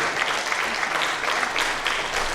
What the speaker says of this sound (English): So give yourselves a round of applause for even being here tonight.